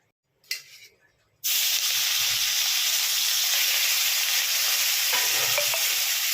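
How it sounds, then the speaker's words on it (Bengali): Prawns dropped into a little hot oil start a sudden loud, steady sizzle after a brief quiet clatter, the frying hiss continuing close and unbroken with a faint scrape of stirring near the end. "বেশি তেল দেবো না, অল্প তেলেই আমি চিংড়ি মাছটা ভেজে নেবো"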